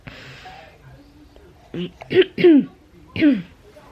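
A person with COVID coughs and clears their throat several times up close, harsh rasping bursts after a quiet stretch.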